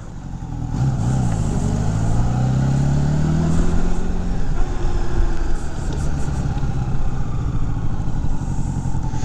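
A 1983 Honda Goldwing GL1200 touring motorcycle engine starts and runs smoothly, a steady low rumble with a brief rev early on, heard close and alone throughout.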